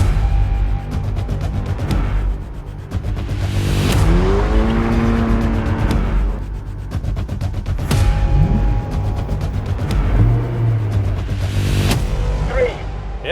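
Volkswagen Golf GTI TCR and Honda Civic Type R launching in a drag race, engines revving hard and climbing through gears with sharp shifts and some tire noise, someone talking over the roar.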